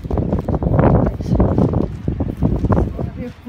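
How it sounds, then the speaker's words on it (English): Wind buffets the microphone at the ruins of Byland Abbey, a steady loud rumbling gust that rises and falls throughout with no talk over it. "It's gonna be windy here."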